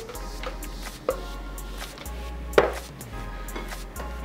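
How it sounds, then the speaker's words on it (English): Frozen strawberries and a frozen banana drop into a large Nutribullet cup as a run of hard, close knocks and thuds, with one louder clatter near the middle and no talking. "I'm going to add a cup of frozen strawberries, one frozen banana"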